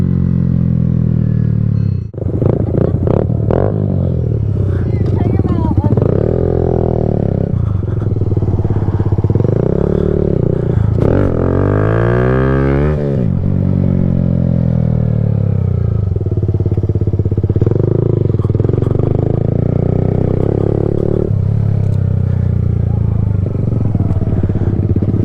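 Kawasaki Z125 Pro small motorcycle being ridden, a steady loud engine drone with rising and falling revs through gear changes, wind buffeting throughout, and voices talking over it at times.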